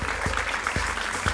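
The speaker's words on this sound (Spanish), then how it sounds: "Un fuerte aplauso a doña Mari, por favor." Steady applause from a group, brisk continuous clapping at moderate volume with a few sharper claps standing out.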